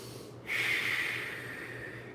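A single long, steady exhalation during a stretching warm-up for acrobatics, close and moderately loud, starting with a soft rush and slowly fading over about a second and a half, with no talking.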